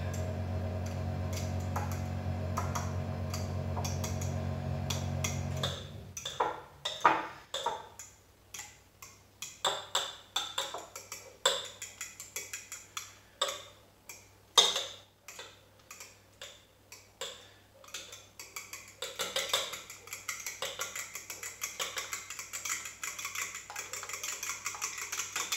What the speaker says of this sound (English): let's mix this up